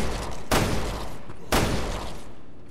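Two sharp handgun shots in Resident Evil Revelations 2, about a second apart, each a loud crack with a short decaying tail, with no talking.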